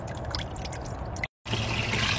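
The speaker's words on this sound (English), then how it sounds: "Adding more water." Water poured onto a pile of Orbeez water beads, a steady close trickling splash that cuts out briefly and then resumes slightly brighter, with no voices.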